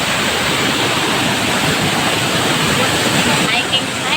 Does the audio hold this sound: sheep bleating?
no